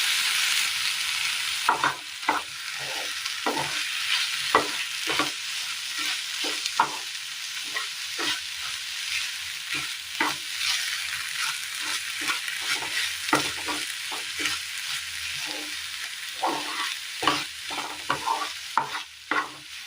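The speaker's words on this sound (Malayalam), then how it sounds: "നന്നായി ഒന്ന് മിക്സ് ചെയ്തെടുത്തിട്ടുണ്ട്" A spoon stirs cooked pumpkin and beans through a sizzling coconut curry in a pan, with steady scraping and clacking strokes over a soft frying hiss and no talking.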